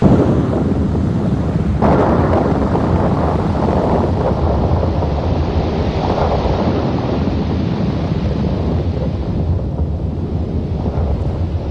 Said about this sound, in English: Occasionally, an explosion blast temporarily disturbs the ash venting.